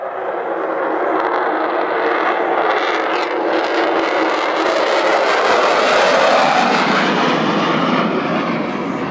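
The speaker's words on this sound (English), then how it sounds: "And there you've got it, the famous Vulcan howl." A loud, steady roar of an Avro Vulcan bomber passing close overhead at an airshow, with its rising, wavering howl riding on top of the broad engine noise.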